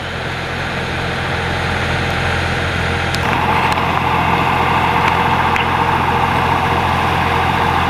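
A farm tractor's engine runs steadily and close by, a loud continuous drone with a few sharp knocks partway through and no talking.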